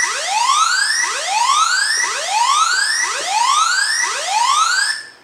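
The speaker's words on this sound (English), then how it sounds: "all the devices can sound a siren in case of emergencies" Emergency siren from a OneScreen GoSafe body temperature and facial recognition scanner: a loud electronic wail rising in repeated sweeps, about five cycles of roughly one second each, steady and alone.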